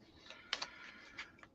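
A few quick, crisp riffling bursts of Marvel United board game cards being shuffled, close and fairly quiet, with short pauses between.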